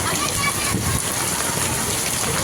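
Rain pours and water splashes steadily in a dense, hissing wash as people bathe in the rain in Surat, close up, with voices faintly mixed in beneath the noise.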